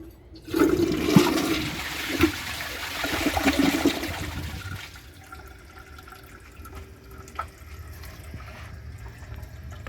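A 2009 Jacuzzi Perfecta toilet flushes down a washcloth with a loud rushing surge of water that drains away, leaving quieter trickling and refilling afterward.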